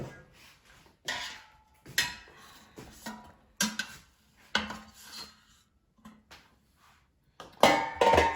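A cooled, cooked spaghetti squash from the air fryer is set on a plate and cut in half, giving a series of separate clinks, knocks and scrapes of knife and plate, close and fairly crisp.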